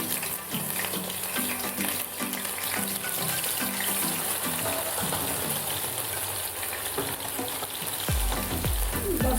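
Soya chunks frying in a pan of hot oil give a loud, dense sizzle and bubbling hiss that runs unbroken throughout, with faint clinks from a utensil and no talking.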